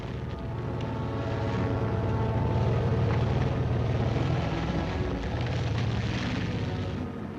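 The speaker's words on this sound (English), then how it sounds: "These are the sights and sounds of a full division on the move." A full military division rolls past, hundreds of jeeps, trucks and armored vehicles including assault bridges, making a steady, loud low engine roar and rumble that holds throughout without a break.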